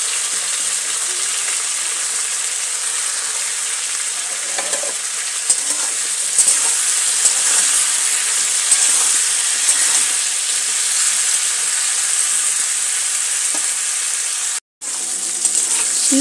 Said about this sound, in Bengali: এবার আলু আর শিমটাকে আগে ভালো করে ভেজে নেব।